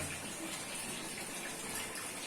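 Hot water running steadily from a tap while beef trotters are washed for paya, a soft, even gushing stream with no talking over it.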